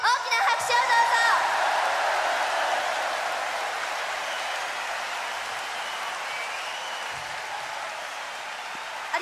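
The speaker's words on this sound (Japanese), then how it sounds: "まずは素敵な演奏をしてくださったバンドの皆さんに大きな拍手をどうぞ" Concert audience applause for the band at a nationwide tour's final show, a broad, even wash of clapping from a large hall that starts loud and slowly eases off, with brief voices at the start.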